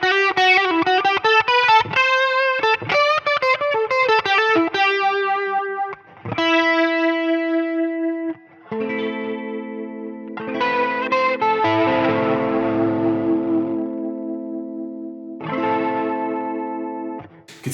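A Line 6 Helix chorus modulation effect on an electric guitar: strummed chords and sustained notes with a shimmering, wavering swirl, played alone with slight pauses between phrases.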